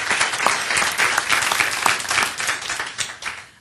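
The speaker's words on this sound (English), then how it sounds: "I'd like everybody to give that crew of folks a good strong round of applause" A corporate audience at a Shell Lubricants gathering claps in a loud, strong round of applause, many hands beating densely and evenly for several seconds before tapering slightly.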